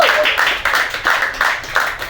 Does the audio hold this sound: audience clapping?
yes